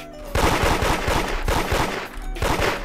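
Repeated revolver shots in the Roblox game Da Hood crack out in three close clusters of rapid, loud reports, each burst separated by a brief lull.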